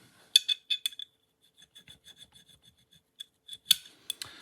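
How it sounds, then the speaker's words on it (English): A metal file rasps excess casting off an airsoft pistol frame in a series of short, crisp strokes, some quick clusters and some spaced apart, close and fairly quiet with no talking. "I'm just taking the excess casting off and just sort of smoothing it. And that's why I'm using this file particularly"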